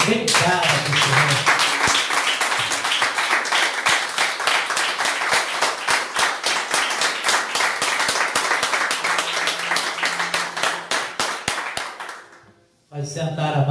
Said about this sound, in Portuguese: Aclamação de palmas bem cara para o Senhor.